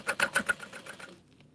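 A sewing machine top stitches a mini pattern in a quick, rhythmic run of close stitches that slows and fades out after about a second.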